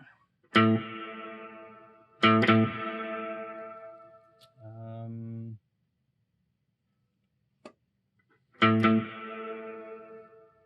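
Four strummed electric guitar chords ring out through a shimmering, chorused effects pedal preset into a Vox amp, with gaps of silence and a single click between them.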